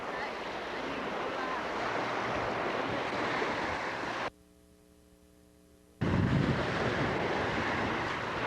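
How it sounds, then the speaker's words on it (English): Ocean surf washing onto a beach at Cozumel, a steady broadband rush with wind buffeting the microphone, briefly cut to a low hum before the wave noise returns louder. "A little more waves today than there has been before."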